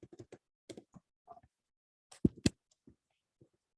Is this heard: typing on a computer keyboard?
yes